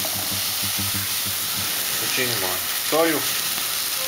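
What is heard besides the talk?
beef medallions frying in oil in a pan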